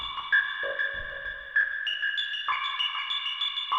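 A SOMA Pulsar-23 synthesizer runs through its filter with the resonance at maximum, producing sharp, ringing tones that step between pitches, moderately loud and alone without talk.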